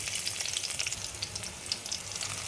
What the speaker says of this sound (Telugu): ఎండుమిరపకాయ కరివేపప్పు చక్కగా వేయించాలి